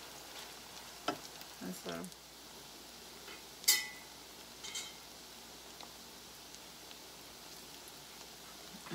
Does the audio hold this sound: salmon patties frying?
yes